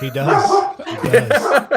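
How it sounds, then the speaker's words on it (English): A dog barks in short, loud, yapping bursts close by, tangled with a voice talking over it, the barks landing in quick succession across the moment. "If you hear dogs barking, that's on my end."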